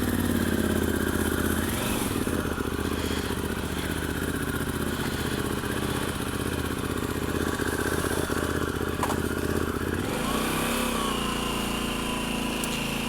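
A motorcycle engine runs loud and steady close by as the bike rides off, with the rumble shifting in pitch near the end and no talking.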